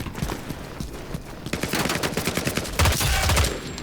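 Rapid M16 rifle fire in the Vietnam-era shooter Hell Let Loose: Vietnam, dense bursts of sharp shots crackling in quick succession, growing heavier toward the end with no talk over it.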